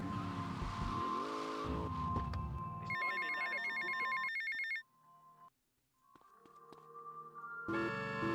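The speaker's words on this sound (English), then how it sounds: "he has a phone call" A phone ringtone chirps in repeated electronic bursts in GTA Vice City, sounding over game music and engine noise, with a short quiet gap before another ringing burst.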